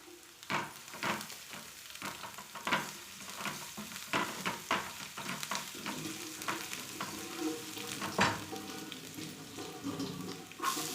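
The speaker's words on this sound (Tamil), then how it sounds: "கடுகு நல்லா பொரியட்டும்." Mustard seeds and spices sizzling and popping in hot oil for tempering, with a continuous crackle and frequent sharp pops, close by and steady throughout.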